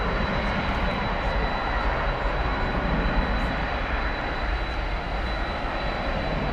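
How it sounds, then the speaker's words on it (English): A UPS Boeing 747-400 from 1993 is pushed back at DFW Airport, its engines giving off a steady, loud, broadband roar that stays constant without a break. "The UPS 747 is backing out, or being backed out."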